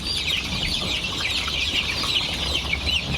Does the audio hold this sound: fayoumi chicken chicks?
yes